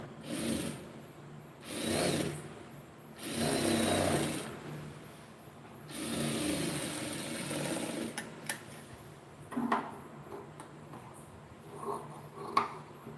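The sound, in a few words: sewing machine stitching a lining blouse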